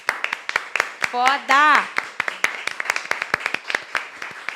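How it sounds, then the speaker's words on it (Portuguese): A round of applause from an all-women production team, with quick, close, uneven claps continuing throughout while a voice briefly exclaims and a short cheer rises over them. "Uma salva de palmas."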